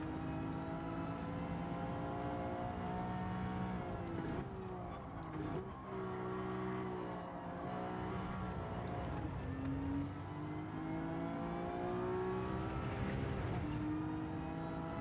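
A Maserati MC20 race car in Gran Turismo 7 on the Kyoto circuit, its engine droning steadily with tonal pitch rising and falling through gear changes and corners, continuous and fairly prominent throughout.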